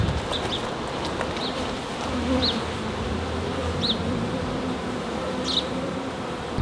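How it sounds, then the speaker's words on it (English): Honeybees buzz steadily around an open backyard hive, a dense continuous hum with individual bees whining past close by now and then, with no voices. "Now we're at Zoe's house and we're going to do this hive"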